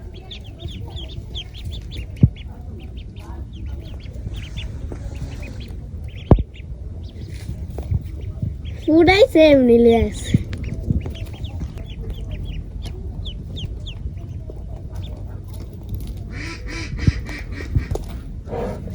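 Ducklings for sale at a market give a brief burst of quacking and peeping mid-way, with scattered faint chirps and background bustle, and a few short spoken words.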